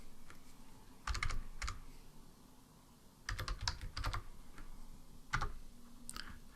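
Keystrokes tapped on a computer keyboard during 3D software work come in short clustered bursts with pauses between, close and moderately loud against a quiet room hum.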